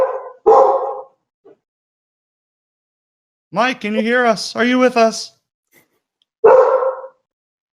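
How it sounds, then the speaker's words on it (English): A puppy barks in short, bright yips near the start and again at the end, while people speak on a video call between the barks. "I hear a puppy who barks exactly like my dog, actually"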